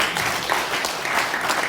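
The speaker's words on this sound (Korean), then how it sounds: "박수로 맞아주십시오." Applause from an audience at a Korean political debate forum, a dense, steady wash of clapping that fills the short moment at moderate loudness.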